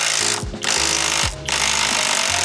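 A power tool with a 22 millimeter socket rattles in loud bursts on a suspension nut of a 1980 Dodge Aspen, two brief pauses between the runs.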